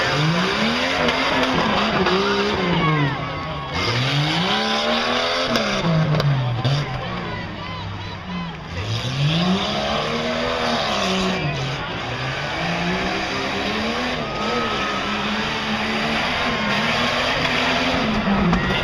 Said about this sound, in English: He's driving the 88 Cherokee.